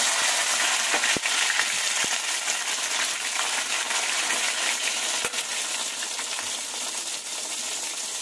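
Tomato dropped into a pan of frying spices for a vegetarian dish, giving a steady loud sizzle and hiss with a few sharp clicks of a spoon against the pan, no voices.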